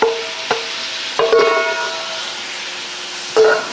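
String beans tossed into a hot pan on high heat: a loud, close hiss of sizzling, with sharp clanks and stirring knocks from a utensil against the pan scattered through it. No one speaks.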